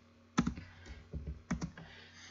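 A computer keyboard is typed on for Chinese Wubi input, giving a few close, crisp key clicks in two small bursts, with no talking.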